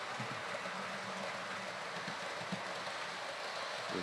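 Two model railway locomotives running double-headed on a layout produce a steady, continuous rumble with faint rhythmic clicking throughout, alone and without speech.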